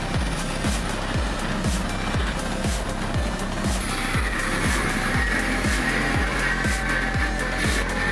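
A CAT 793F mining dump truck at a Queensland mine, its engine of over 2,400 horsepower roaring steadily and loudly, with a rhythmic low-end pulsing throughout and no talking.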